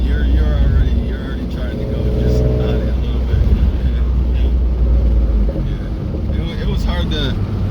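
A turbocharged 3.7 V6 Mustang pulls hard in fourth gear on a dyno, a loud sustained engine drone with rising tones and whine, joined by a voice talking over it.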